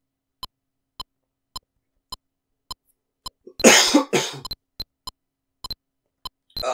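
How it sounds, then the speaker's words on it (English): A single person coughs a few times in a short, harsh burst, set against a steady, evenly spaced ticking that keeps going before and after. "one day I'm going to get over this cough."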